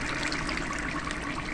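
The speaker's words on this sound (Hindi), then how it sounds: "इसमें हम दही शामिल कर देंगे।" Plain yogurt going into a large pot of chicken biryani being cooked in ghee, producing a steady, close, wet sizzling and splattering with no talk.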